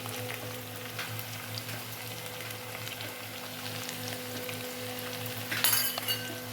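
Onion with ginger-garlic paste frying in a pan for a clam meat dish, a steady soft sizzle with occasional clinks of stirring and a louder scraping burst near the end, no voices.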